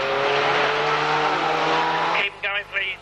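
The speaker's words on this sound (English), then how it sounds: "it's going to be the 48 car that comes through to take the second." A race car roars past at a 1991 Braintree Auto Club race meeting, a loud sustained engine drone that cuts off abruptly, followed by brief fainter engine bursts; a commentator talks over it.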